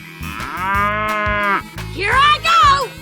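Cow in a 3D animal slide video game lets out a long drawn-out moo followed by two shorter rising calls, loud and close over rhythmic game music.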